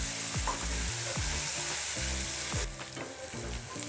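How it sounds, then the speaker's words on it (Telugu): Chopped onions and green chillies sizzle in hot oil in a pan for a coconut egg curry, a constant bright frying hiss over repeated low scraping thumps of stirring. "ఇప్పుడు ఇందులోకి కట్ చేసి పెట్టుకున్న ఉల్లిపాయ ముక్కలు, పచ్చిమిరపకాయ ముక్కలు యాడ్ చేసుకోవాలి. యాడ్ చేసుకొని కొంచెం ఫ్రై చేసుకోవాలి."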